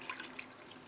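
Water poured into a pot for making Moroccan tanjia, a brief steady splashing stream heard close and alone.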